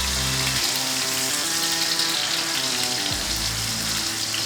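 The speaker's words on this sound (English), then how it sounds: "when you hear that sizzle, always lay steaks away from you when you put them in the pan" Steaks sizzle in hot oil in a pan, a steady, loud, dense hiss running the whole time with no talk over it.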